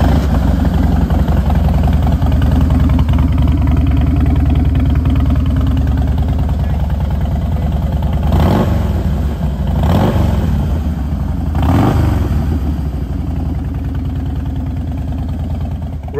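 A 1400cc motorcycle engine idles steadily with a deep, even throb, then is blipped three times in quick succession around the middle of the run, each rev swelling loudly before settling back to idle. Recorded close, with no talk.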